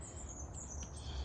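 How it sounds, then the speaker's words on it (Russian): Birds squawk and chirp outside a house in Germany, their high calls repeating in short bursts over a steady outdoor background, moderately near and fairly quiet. "Вот, птички поют, дерево."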